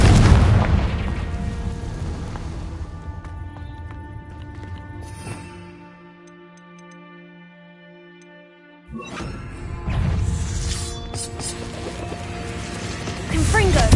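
Booming explosion spells cast in Hogwarts Legacy, with loud blasts and bursts over a busy game soundscape, a quieter lull midway, then renewed crackling impacts; a voice shouts spell names throughout.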